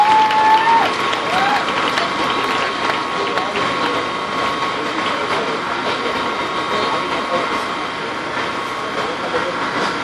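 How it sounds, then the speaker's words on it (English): Spectators at an outdoor award ceremony after a Fifth Avenue Mile road race applaud the youth ambassadors, a steady, broad clapping roar blended with city and crowd noise, fairly loud throughout. "Let's give them a nice round of applause"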